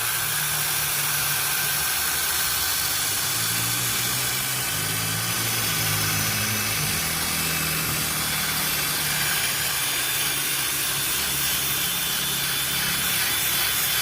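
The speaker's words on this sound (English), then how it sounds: "So now we're just going to go ahead and start buffing this thing out." A drill on high speed buffs a car headlight with a Harbor Freight headlight restoration kit, making a loud, continuous whirring, rubbing drone that holds steady throughout, with no talking.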